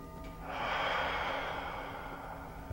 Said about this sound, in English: Breathing in the nose, out the mouth is circular breathing.